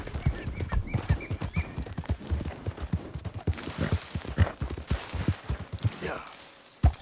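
Galloping wild horses in Red Dead Redemption 2 pound along in steady, rapid hoofbeats, close and loud, ending with a sharp thud.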